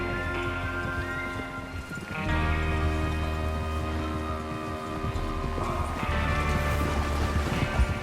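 Steady rhythmic hoofbeats of horses trotting in Red Dead Redemption 2, over layered ambient music and background hum, continuous and moderately loud throughout.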